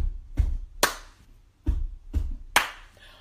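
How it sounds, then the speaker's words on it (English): Two heavy foot stomps followed by a sharp hand clap, repeated twice in the We Will Rock You rhythm, close and crisp with quiet gaps between beats. "So you stomp twice and then clap."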